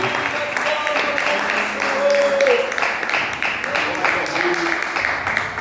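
A church congregation clapping along joyfully during a Portuguese-language worship service, steady rhythmic applause running under a preacher's voice speaking throughout.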